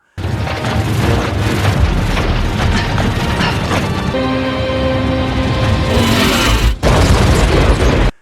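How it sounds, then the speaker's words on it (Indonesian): A huge explosion in the monster battle of the 2016 film The Great Wall, as a soldier blows himself up: a loud, dense, continuous roar of blasts and clanking mechanisms for about eight seconds, with a brief dip near the end. "Shen pun bangkit dan meledakkan diri untuk menghentikan monster-monster itu"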